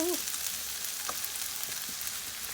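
Fry bread frying in hot oil, a steady close sizzle with faint stirring clicks, no talking.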